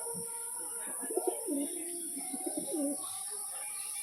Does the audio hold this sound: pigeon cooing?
yes